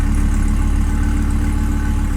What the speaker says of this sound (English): usually it's barely idling and just fluctuating, almost dying nonstop